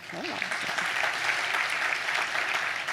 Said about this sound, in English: y'all in a clapping mood now